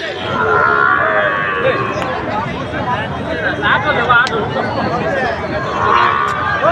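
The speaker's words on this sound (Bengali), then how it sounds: "শাহিওয়াল জাতের ষাঁড় বাছুর।" At a busy Qurbani cattle market, Sahiwal bull calves stand amid a crowded, chattering hubbub, with occasional low lowing rising above the constant murmur of voices.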